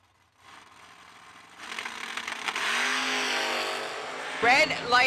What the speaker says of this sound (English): Terry Julian, dragster, left lane 474.